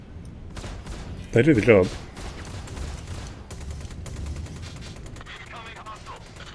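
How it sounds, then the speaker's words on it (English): Rapid energy-weapon fire from a P52 Merlin ship in Star Citizen, a short loud burst of repeated shots standing out over ongoing game noise, with someone talking throughout. "So it does seem to be able to fire for a while without running out of energy or anything like that"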